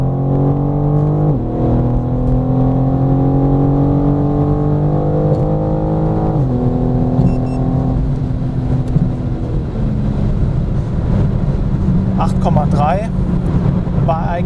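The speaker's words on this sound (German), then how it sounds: "Ich bin wieder in der manuellen Gangvorwahl, wieder im 4. Gang, 80 und beschleunige raus." A BMW M4 Competition G82 pulls hard in fourth gear from 80 km/h, its engine drone climbing steadily and loud from inside the cabin, with a short shift-like dip and a voice talking over it.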